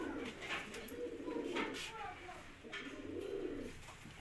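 Soft, repeated throaty cooing from a pigeon, close by, in two rolling phrases with quiet background noise between.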